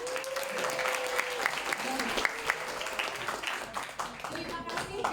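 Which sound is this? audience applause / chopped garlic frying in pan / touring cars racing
audience applause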